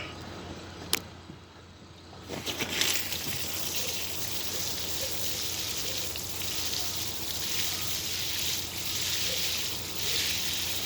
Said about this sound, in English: Let me go ahead and water it in a bit.